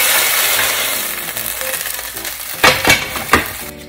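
Pork stir-frying in a frying pan, a continuous loud sizzle near the mic, joined toward the end by several sharp clatters and scrapes of tossing and stirring.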